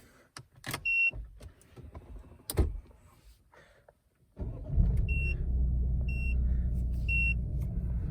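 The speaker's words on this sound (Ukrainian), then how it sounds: "Сідаємо, заводимо машину." A few clicks and a thump, then a Peugeot 3008 engine turns over and settles into a steady low idle, with short electronic chimes repeating over it; the car has ABS sensor faults.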